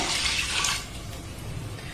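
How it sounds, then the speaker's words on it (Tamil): A short hiss of water poured into a pot of rice, splashing, strongest at first and then settling into a softer steady rush. "அரிசி எடுத்த கப்புக்கு ஒரு கப்பு தண்ணி பாரு சேர்த்துடலாம்"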